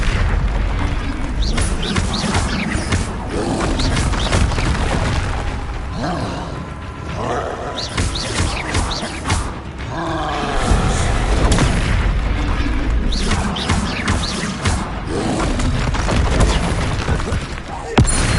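Confringo fire spell blasts in Hogwarts Legacy on PS5, a continuous run of booming explosions and combat effects filling the mix loudly throughout, with game sounds layered densely and no pause.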